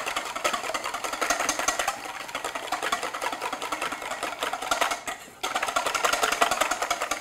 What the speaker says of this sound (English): I'm just going to whisk that to break them up.